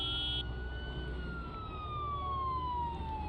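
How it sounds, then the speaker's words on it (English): A vehicle siren in the zombie survival game Project Zomboid wails steadily with a slowly falling pitch, loud and continuous over a low background rumble. "Let's kill the siren."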